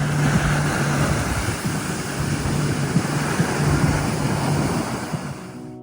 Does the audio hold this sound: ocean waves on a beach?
yes